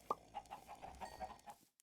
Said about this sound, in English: I'm going to get some more chickens in here